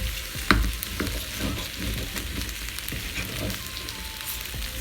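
Beef sausages frying in a good-quality pan, steady sizzle and crackle close by with light scraping and tapping as a fork slices through them gently.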